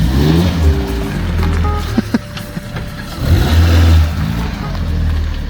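A Fiat 500's engine revs and pulls through the gears up close, loud rising drones broken by shift pauses, with a voice speaking over the drive.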